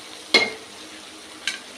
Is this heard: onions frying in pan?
yes